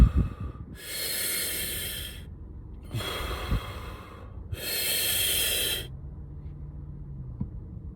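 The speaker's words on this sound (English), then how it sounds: "Breathing exercises." Three long, forceful breaths in a pranayama breathing exercise, each a sustained rushing hiss lasting one to one and a half seconds, separated by short pauses. The breaths are close and loud, followed by quiet, and no one speaks.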